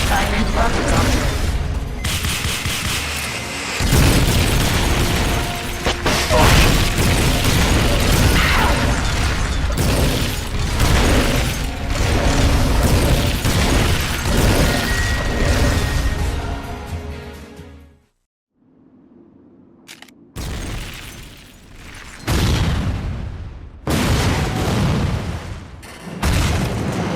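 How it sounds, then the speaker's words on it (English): Rocket launcher fire in Metal Gear Solid: Peace Walker, a run of heavy booming blasts and mechanical bursts filling most of the stretch, loud, with a brief near-silent gap before more explosions. "Firing rocket launcher."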